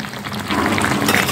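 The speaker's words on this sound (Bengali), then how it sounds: "চিকেনটা ঢাকা খুলে দিয়ে কিন্তু আমি আরও একটু নাড়িয়ে দিলাম" Country chicken cooking in an open pot sends up a dense, close bubbling sizzle, growing louder partway through as it is stirred, with no voices.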